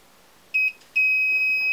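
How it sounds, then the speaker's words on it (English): A Hornady automatic powder dispenser gives two short electronic beeps, the second held longer, a clear high-pitched tone close by in a quiet room, signalling an over-charge. "two beeps is over."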